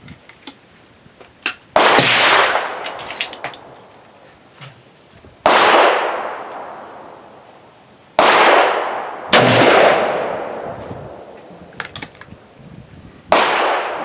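A Thompson Center Contender pistol in 35 Remington firing 150-grain loads, with four loud, sharp outdoor shots spaced several seconds apart, each trailing into a long echoing decay, plus faint handling clicks between them.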